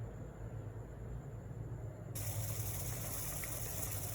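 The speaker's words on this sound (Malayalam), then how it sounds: "നല്ല ഹൈ ഫ്ലെയിമിലിട്ടാണ് നമ്മളിത് തിളപ്പിക്കുന്നത്. സോ നന്നായിട്ട് തിളയ്ക്കുന്നുണ്ട്." Water with herbal drink ingredients boils in a pan over a high flame, a steady rushing bubble that grows louder and denser partway through, with no talk.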